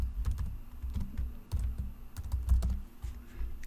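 An email address being typed on a computer keyboard, with soft irregular key taps under a low steady hum, close and fairly quiet.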